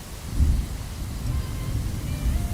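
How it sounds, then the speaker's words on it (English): Thunder in the Crimson Desert video game, a deep continuous rumble that swells near the start and keeps rolling steadily, loud and close, mixed with a faint rain-like hiss and no talking. "let's make the thunder a little louder now"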